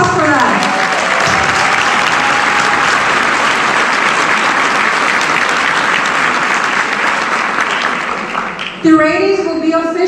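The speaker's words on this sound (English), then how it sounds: "So give yourself a round of applause for that." Loud, dense applause from a large audience at a school district general assembly, sustained and even, then dropping as a voice begins to speak near the end.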